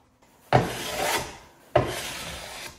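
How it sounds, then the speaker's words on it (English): Two long rasping strokes of a handsaw cut the excess off oversized wooden rails for a crosscut sled, each stroke starting with a sharp bite and then grinding on, close and clear with no talk. "Because the rails were made oversized, I used a handsaw to remove the excess."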